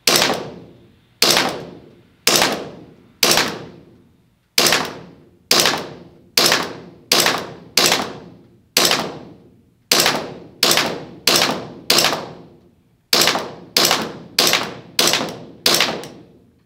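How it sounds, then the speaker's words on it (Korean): A pistol topped with an RMR red dot sight fires about twenty sharp, loud shots at close range. They come in quick irregular bursts, each crack followed by a short decaying ring, and no one speaks. "조금 빠르게, 조금 빠르게 속사했습니다."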